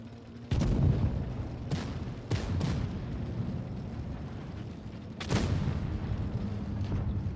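Tank cannon fire in the video game World of Tanks, with tier 10 heavy tanks in battle: several sharp, loud booming shots spaced a second or two apart, each followed by a low rumbling tail.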